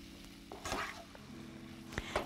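Vegetables stirred in a hot pan, soft sizzling frying under scraping and clanking of the utensil against the pan, a few distinct strokes close by and fairly quiet.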